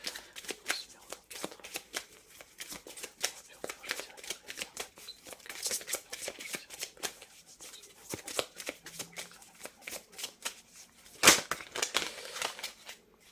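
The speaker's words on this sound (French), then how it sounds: "J'ai quand même beaucoup de cartes qui sautent." Tarot cards are shuffled by hand in a close, quick series of soft flicks and riffles that continue throughout, with one sharper snap near the end and no talking.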